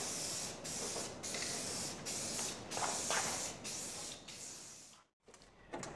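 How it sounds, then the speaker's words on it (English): Short bursts of aerosol spray paint on metal parts of an engine run stand hiss repeatedly, about a dozen in a steady rhythm, close and fairly quiet, ending with a pause and a faint clatter. "I just gotta spray some paint on this so it's all one color."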